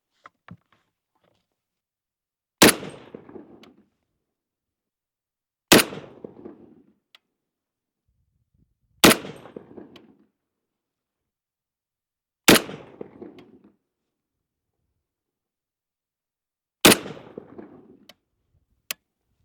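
A Springfield Armory SOCOM 16 rifle fitted with a red dot fires five single shots at the range. Each shot is a loud, sharp crack with a short echoing tail, spaced roughly three to four seconds apart, with near silence between them.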